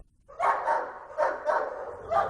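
Police cadaver dogs bark during a search of a remote farm in Tiffin, Iowa: four sharp, fairly close barks in an uneven rhythm, with short pauses between them and no talking.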